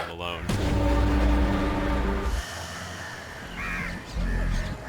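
Crows caw harshly and repeatedly while a flock attacks a man in India, loud and close, with heavy low rumbling and other noise underneath.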